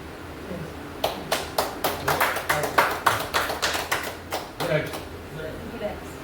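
A handful of people clap at a business meeting, sharp individual claps in quick, uneven succession, close and loud for a few seconds before thinning out, with talk in the background.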